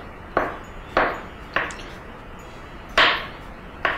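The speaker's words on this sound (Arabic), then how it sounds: "وأنا هقطع المشروم" Mushrooms being cut with a knife on a board, five crisp separate chops at uneven intervals with short pauses between, close and fairly quiet, with no one talking.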